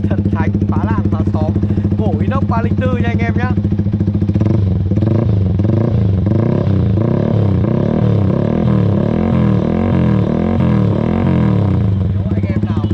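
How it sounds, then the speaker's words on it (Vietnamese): A Yamaha R15 V3 motorcycle engine idling loudly and close, then revving with a rough, throbbing rumble, while someone talks over it. "Nổ máy."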